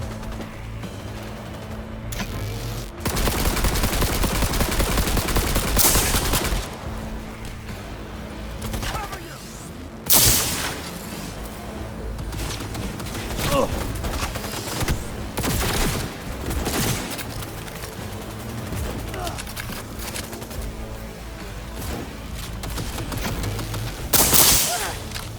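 Rapid bursts of automatic gunfire from a gun in the game Cyberpunk 2077, loud and sustained with short pauses, layered over game effects and a voice talking between volleys.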